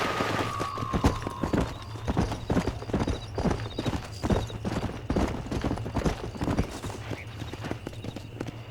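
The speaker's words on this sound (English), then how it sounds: "I don't know how my horse got all the way over here" Rapid, rhythmic hoofbeats of a galloping horse in the video game Red Dead Redemption pound steadily throughout, close and loud, with a short whinny near the start.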